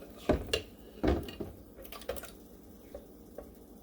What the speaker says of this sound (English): I'm banging into my cabinets because I have a little kitchen